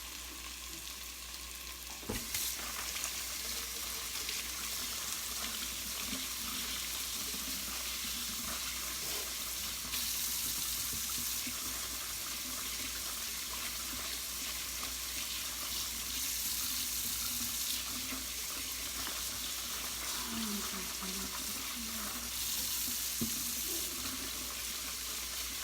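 Running tap water pours steadily over small red potatoes being rinsed of dirt in a kitchen sink, a continuous close hiss and splash with faint clunks of handling, no talking.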